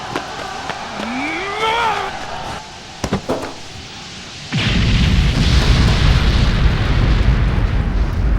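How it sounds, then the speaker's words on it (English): Faint whistling and sharp pops give way to a sudden loud blast at a riot police line, followed by sustained roaring rumble and crowd noise. "A violent explosion suddenly shattered the police line."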